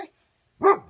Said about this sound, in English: I apologize for the dogs, it's just a way of life around here.